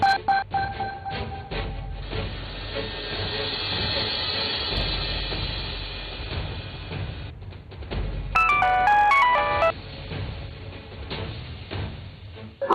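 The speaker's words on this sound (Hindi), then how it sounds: "अशरफ ने फिर शुक्रिया का मैसेज किया तो मसरत ने उसे फोन कर दिया।" An incoming call sets off a phone's melodic ringtone, a short run of bright beeping tones rising out of a busy rumbling, clattering background, close and fairly loud, then fading.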